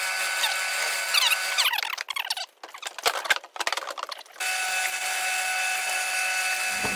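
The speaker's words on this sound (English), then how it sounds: "we've drilled the holes to be big enough for these new tuners that we're about to put in" Drilling through a Fender Squier Bullet guitar headstock to widen the holes for new tuners, with bursts of whirring, chattering drill noise in the middle over a steady background hum, fairly close and loud.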